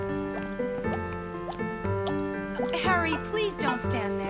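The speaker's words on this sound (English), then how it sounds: "I can hear a drip out here, too." Water drips at steady intervals in a household scene from the cartoon Harry and His Bucket Full of Dinosaurs, each drop a clear plink over a musical background, with a voice speaking partway through.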